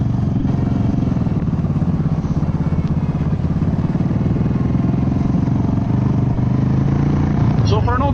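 A Yamaha V-Star 1100 carbureted cruiser motorcycle rumbles steadily while riding at moderate speed, a loud continuous engine drone mixed with wind noise, with a rider talking over it.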